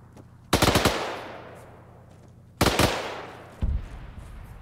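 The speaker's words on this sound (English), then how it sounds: "machine gun" A video game machine gun fires three loud bursts: two rapid rattling volleys, each trailing off in a long echoing decay, then a shorter third burst.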